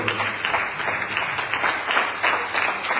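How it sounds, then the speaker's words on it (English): A community gathering audience applauds three young McDonald's employees, with dense, continuous clapping that is moderately loud and close, with no talking over it. "Give them a round of applause."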